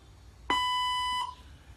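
A single electronic prompt beep from a robot language translator, a steady harmonic tone lasting about three-quarters of a second, clear and close over quiet background.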